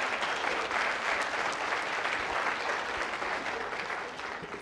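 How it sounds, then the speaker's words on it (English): A church congregation at a Sunday worship service gives a sustained round of applause, dense and steady throughout, tapering slightly at the end. "Give him a round of applause."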